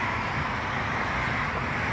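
Steady roadway traffic noise from passing vehicles, a dense continuous roar with no breaks, fairly loud and close, with no talking.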